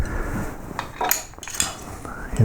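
A knife scoring a line into wood while carving a baseball cap, a few short scraping and clicking strokes, close and fairly loud, with no voice.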